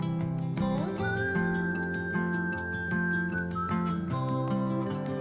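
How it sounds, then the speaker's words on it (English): A sustained whistled melody line rides over a country track with steady bass and rhythmic backing, the whistle holding a long clear note through the middle of the passage. "There's bass in that whistle."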